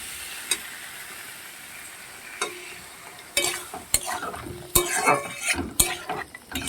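Potato pieces fry in a pan with a soft, steady sizzle, broken by sharp scraping clinks of a utensil stirring, which grow busier toward the end.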